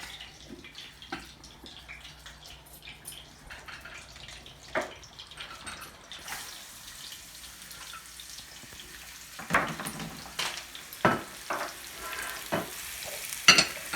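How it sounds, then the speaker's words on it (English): Onions, garlic and peppers sauté in oil with a soft sizzle under intermittent stirring scrapes and clanks, growing busier and louder toward the end; no voices. "And we're just gonna saute that for a second."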